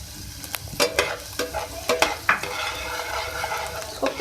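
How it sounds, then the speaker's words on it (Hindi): A tablespoon of chopped garlic frying in oil sizzles steadily while a spoon scrapes and stirs the pan in repeated sharp strokes, close and fairly loud, no talking. "अब ऑयल में सबसे पहले मैं ऐड करूँगी 1 टेबलस्पून चॉप लहसुन"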